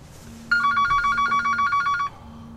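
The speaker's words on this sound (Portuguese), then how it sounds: "O telemóvel preso ao tabuleiro ilumina-se." A mobile phone rings in a parked car at night in a film scene, a steady repeating electronic ring of about a dozen pulses lasting over a second and a half, loud and close against a low engine-like hum.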